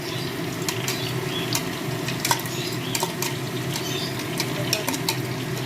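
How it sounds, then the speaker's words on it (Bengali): Cashew nut paste going into a chicken gravy that simmers and sizzles steadily in a pan, with scattered light clinks and scrapes of a utensil, close by and with no voices. "ওই যে যে ক্যাশিউ নাট পেস্টটা করেছিলাম গ্রেভির জন্য সেটাকে ঢেলে দেবো"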